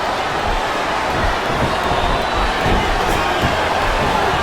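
Loud, steady crowd cheering and roaring from a WWE SmackDown vs. RAW 2007 wrestling match on Xbox 360, a continuous arena din with no distinct breaks.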